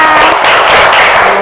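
Classmates clapping for a student named Aida in a Grade 4 Indonesian class, a loud, dense, steady burst of applause filling the whole short moment.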